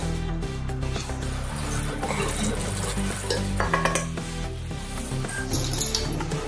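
Rice flour tipped into a pot of boiling water on a lowered gas flame and stirred in, steady scraping and stirring with a low bubbling hiss underneath, close and fairly loud, no voices.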